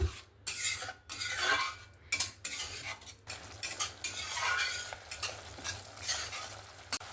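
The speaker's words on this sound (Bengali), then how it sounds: "এখানে গুঁড়ো মশলাটা দিয়েও ভালো করে কষিয়ে নিয়েছি, তেল ছেড়ে দিয়েছে।" Ground spice paste, mixed with water, is stir-fried in oil in a pan with repeated scraping strokes of a spatula and a soft sizzle underneath, close and steady, with no talking.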